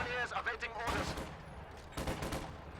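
MG42 machine gun fire in Company of Heroes 2, short rattling bursts at moderate distance amid battle noise, with a commentator talking over it.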